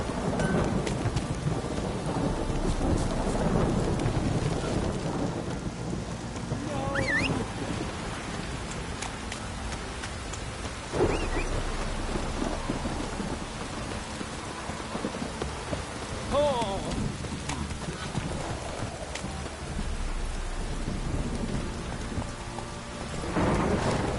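Steady heavy rain pours throughout while deep thunder rumbles and cracks, swelling and fading over the storm, in the video game The Witcher 3: Wild Hunt.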